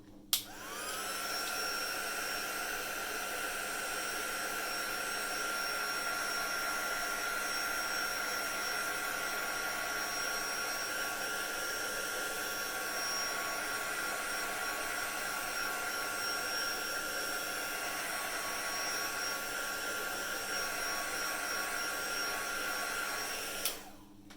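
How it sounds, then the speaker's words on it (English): Heat gun blowing steadily to dry and heat set a mixed media birthday card, a loud continuous whooshing roar with a whining tone that runs unbroken for over twenty seconds and cuts off at the end. "my heat gun's coming back on"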